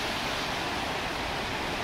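Cascade du Dard, a mountain waterfall near Chamonix fed by Bossons Glacier meltwater, roaring as a steady, dense, loud rush of falling water with no breaks and no voices.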